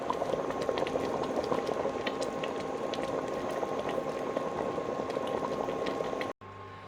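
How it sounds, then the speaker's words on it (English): Barbecue sauce bubbles and pops steadily in a pan over moderate heat, a close, continuous simmering crackle that cuts off abruptly near the end. "just bring it to the boil and simmer it down for about 10 minutes"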